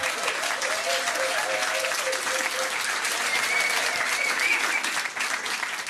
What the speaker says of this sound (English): Give them a round of applause there